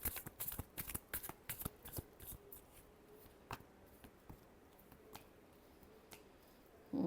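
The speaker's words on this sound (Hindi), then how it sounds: "Last shuffle." Tarot cards are shuffled by hand in a quick run of crisp riffling flutters, dense at first and thinning to scattered taps, close and quiet with no talk.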